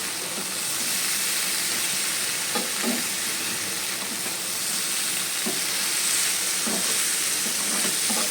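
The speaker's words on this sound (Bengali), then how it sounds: "এটা ভালো করে কষানো হয়ে গেছে" Soybean curry with ginger paste, yogurt, onion and garlic sautéing in a pan, a steady dense sizzle and hiss with soft stirring scrapes now and then, close and continuous, with no voices.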